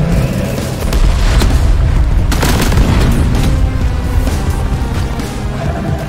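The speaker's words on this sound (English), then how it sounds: "That was an explosion." A Detonator enemy blows up in the co-op video game Deep Rock Galactic, a loud sustained rumbling boom with dense crackling debris that rolls on for several seconds without talk.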